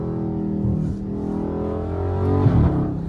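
A Dodge Charger 392 Scat Pack V8 drives in sport mode, its engine giving a steady, close, throaty drone that swells slightly toward the end.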